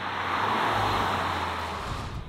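Steady broadband road roar inside the cabin of a 2024 Volkswagen T-Roc R at higher speed on coarse chip surfaces, a continuous even hiss with low tyre rumble and no talk.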